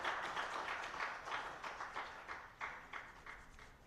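An audience applauds the European Union at a World Wildlife Day conservation event, a steady, fairly faint wash of many hands clapping that swells and fades slightly over a few seconds.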